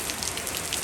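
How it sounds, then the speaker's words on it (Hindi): Rain falling outdoors in steady, dense patter, moderately quiet and alone, with no talking. "बारिश जो है वो उसने फिर से हमला कर दिया है"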